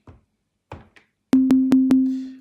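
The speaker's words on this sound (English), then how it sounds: "We can use the digital oscillator, finding the sine wave here" A Tempest synthesizer's digital oscillator sounds a pure sine tone, struck four times in quick succession with clicky onsets, then held as a steady sustained pitch, preceded by a few soft muffled knocks.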